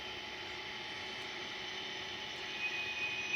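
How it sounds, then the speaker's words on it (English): A model locomotive brake squeal from a Tsunami sound decoder, a steady high whistling screech over a constant hum that rises slightly toward the end, heard alone. "brake squeal with momentum"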